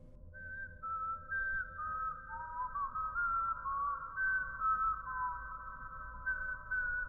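A lone man whistles as a ghost story sound effect for the Acle Straight road, with a long, wavering, clear tune sliding between notes over a faint low hum.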